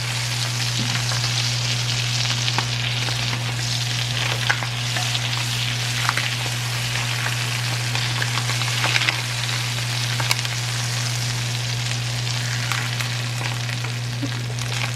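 Thin barramundi sea bass fillet frying in browning butter in a hot pan, a steady dense sizzle with fine crackling pops, close and continuous, under a low hum.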